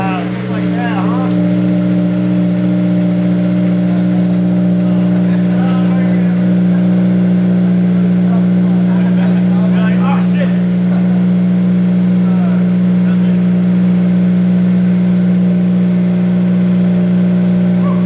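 A Honda F20C-swapped AP1 engine runs with a steady, loud, close drone and an even hum that holds throughout, while voices murmur faintly in the background.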